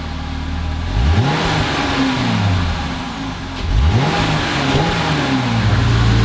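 A Jeep Gladiator engine on its stock muffler exhaust revs up twice, each time rising and falling back, loud and close throughout with a steady engine drone between the revs.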